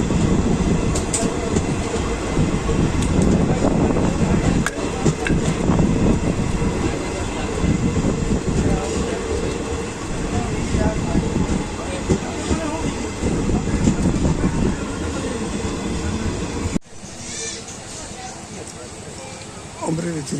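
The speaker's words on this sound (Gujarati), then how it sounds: "આપ જોઈ શકો છો લાઠીનું રેલવે સ્ટેશન." A train runs through a village railway station platform at Lathi in Amreli district, a loud, steady rumble of rolling wagons that fills the clip and then abruptly drops to quieter ambience near the end.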